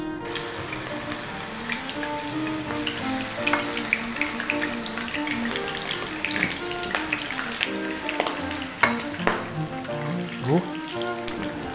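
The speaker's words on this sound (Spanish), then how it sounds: "Ahí vamos a tener los plátanos cociéndose durante aproximadamente 3 o 4 minutos" Sliced plantains for Dominican mofongo sizzling in hot oil, a steady crackling hiss under quiet kitchen background tones and light clinks.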